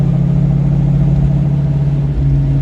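A Ford 8.8 rear differential howls under light acceleration, giving a loud, steady low drone with a strong tonal hum over road and engine rumble, nearby and without talk.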